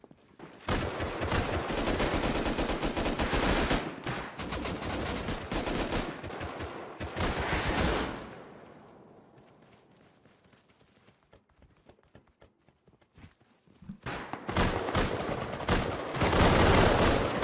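Loud, sustained automatic gunfire in the Rust video game, with rapid bursts for about eight seconds, a quieter stretch with faint scattered shots, and then another heavy burst of fire.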